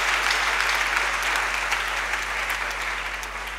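A church congregation breaks into sustained, fairly loud applause during a French-language service, the clapping steady and dense from start to finish before tapering slightly at the end.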